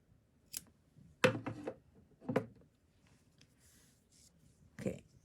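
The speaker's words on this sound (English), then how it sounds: "Cut the yarn." Scissors snip through crochet yarn in a few separate quiet cuts with pauses between them, close up in a quiet room.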